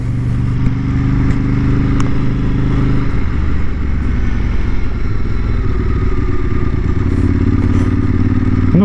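A motorcycle ridden on open roads out of town, its engine droning steadily and loud with shifting pitch and some rattling, no talking.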